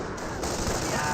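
Machine gun fire in the Company of Heroes video game, a dense, continuous rattle of battlefield gunfire filling the mix, with a voice talking over it.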